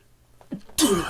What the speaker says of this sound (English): Trying very hard not to sneeze down the mic